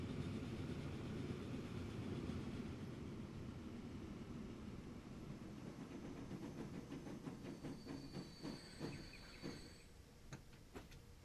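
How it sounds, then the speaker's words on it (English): A wood-hauling train rumbles along the track in the Transport Fever 2 video game, a faint steady low roar with rhythmic clicking wheel beats growing toward the end. "It's a beautiful looking train"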